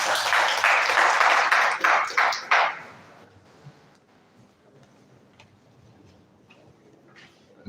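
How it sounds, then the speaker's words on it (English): Conference audience applause at an international electrical engineering conference, a full burst of many hands clapping in a hall for about three seconds, then fading into scattered claps and quiet room tone. "A round of applause for the Dean, please."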